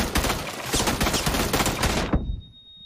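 Rapid bursts of Uzi submachine gun fire from a video game in burst mode, loud and close, a dense stutter of shots for about two seconds before cutting off abruptly.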